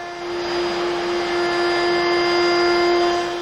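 A wood router fitted with a 1/4 inch roundover bit cutting quarter-round molding from a larger board whines at a steady high pitch, loud and close, with no talk.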